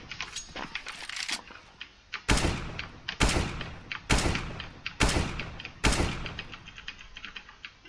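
Gunshots in Counter-Strike on Mirage while counter-strafing: sharp, loud single shots fired one at a time at a steady pace of about one per second, with quick keyboard tapping between.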